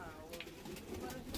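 Lambadi Andhra pigeons coo softly and close by in a loft, a brief burst of throaty, rolling calls with faint voices in the background.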